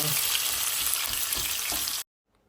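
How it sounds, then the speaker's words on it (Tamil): Onions sautéing in a pan for a home-cooked crab curry, giving a loud, steady, close sizzle with a stir or two, which cuts off abruptly near the end. "வெங்காயம் வதங்குது"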